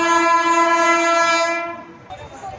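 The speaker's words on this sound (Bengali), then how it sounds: "আমাদের ট্রেন চলে এসছে হাওড়া বর্ধমান লোকাল ভায়া কড" A Howrah–Burdwan local train sounds a long, loud, steady horn at a platform for about a second and a half, then the horn cuts off and a quieter rumble of the arriving train and station noise follows.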